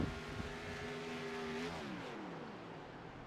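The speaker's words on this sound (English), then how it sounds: "you can hear him actually clutching the car and saving fuel" An iRacing Camaro race car engine drones steadily, its pitch gliding down and then dropping as the driver clutches in to save fuel, loud and close throughout.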